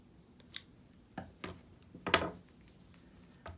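Scissors snip through yarn while trimming the wrapped side of a pom for a wreath: a handful of quiet, close, crisp cuts spaced irregularly in a still room.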